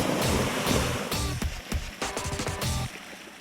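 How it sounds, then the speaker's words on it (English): A fire hydrant opened for water main flushing gushes loudly and continuously, a dense roaring rush of water nearby with some clattering splashes and no voices. "flow the water to flush the mains at a fast enough rate to stir up the mains and flush it out these fire hydrants"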